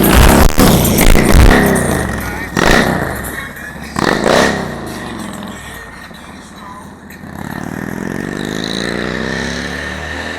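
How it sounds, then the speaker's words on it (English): A motorcycle roars past close by with loud bursts of engine noise, then a rising whine fades as it moves away, followed by steady background rumble. "I'm gonna let this motorcycle pass."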